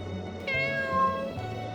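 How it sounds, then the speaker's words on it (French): Soft cat meows, one drawn-out cry followed by a shorter second one, close and gentle over a low, steady tonal background. "Il la regardait et miaulait doucement"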